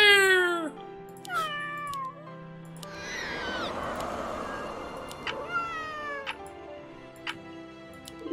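Cat unit in the tower-defense game Legion TD 2 meowing several times, with drawn-out rising and falling cries alone at first, then a dense wash of game battle noise with more meows and clicks over it.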